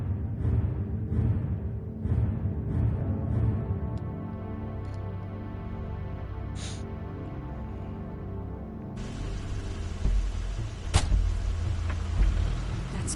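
Car engine from The Wolf Among Us, a steady low rumble with drifting engine tones under a musical score, joined near the end by a louder broadband roar and a sharp transient.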